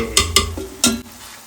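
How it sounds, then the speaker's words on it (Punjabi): Saag with a fresh tadka is stirred in a kadai, with three sharp scrapes and knocks of a spoon against the metal pan over a soft sizzle, close and loud. "ਕੜਾਈ ਦੇ ਵਿੱਚ ਸਾਗ ਪਾ ਦਿੱਤਾ ਜੀ ਤੇ ਬਸ ਹੁਣ ਤੜਕਾ ਲੱਗ ਗਿਆ ਇਹਨੂੰ ਹੁਣ ਘਮਾਉਣਾ"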